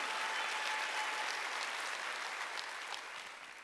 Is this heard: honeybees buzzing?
no